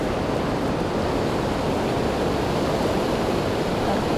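River water rushing over a cascade near a dam, a steady loud broadband roar of churning water with no breaks, close and unaccompanied.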